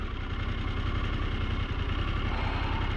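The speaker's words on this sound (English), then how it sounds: "as long as I'm revving it, it seems to go up okay" A Harley-Davidson Pan America motorcycle engine running steadily at a raised rev, a continuous low throbbing drone up close with no talking.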